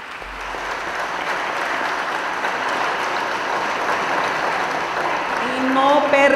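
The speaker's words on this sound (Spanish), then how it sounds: "les pido un aplauso para la paz" Sustained audience applause at a special session for National Journalist Day, a dense, even wash of many people clapping that swells slightly toward the end, with faint voices mixed in.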